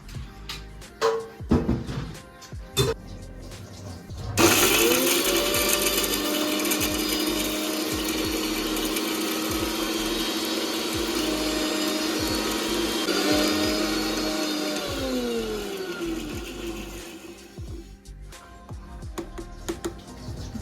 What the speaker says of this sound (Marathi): आणि हे आता मिक्सरला वाटून घ्यायचं